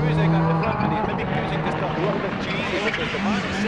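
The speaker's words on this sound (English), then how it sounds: "You can hear the whistling and the popping and the banging of the wastegate on the turbocharged car of this four-wheel drive monster Ford Focus" A turbocharged four-wheel-drive Ford Focus rallycross car accelerates hard on a loose section at Knockhill, its engine roaring with whistling turbo and popping wastegate bursts, close and loud beneath excited commentary.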